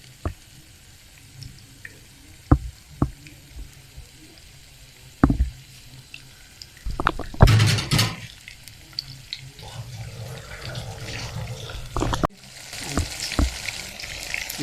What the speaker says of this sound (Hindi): हमारी फिश फ्राई हो रही है